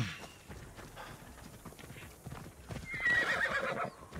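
A horse in the video game Assassin's Creed Odyssey walks with steady clip-clopping hooves, then gives a loud whinny partway through while the hooves continue.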